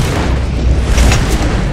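A shotgun blast in the Western shooter Red Dead Online, heard as a dense, booming burst of low-end gunfire and rumble that fills the moment without pause, with no talk over it.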